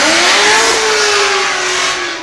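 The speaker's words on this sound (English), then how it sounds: "And this car is really an assault on the senses. The sound that comes out of the exhaust is incredible" Drift car exhaust at a British Drift Championship pro qualifying round in Birmingham, a loud, continuous engine roar whose pitch climbs and holds steady through the run, then eases slightly at the end.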